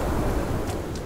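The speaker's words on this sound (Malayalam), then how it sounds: "കാറ്റടിക്കുന്ന സൗണ്ടാ കേക്കണേ" Steady wind blowing in the snowy ice biome of Sons of the Forest, a soft broadband rush that stays even and close for about a second.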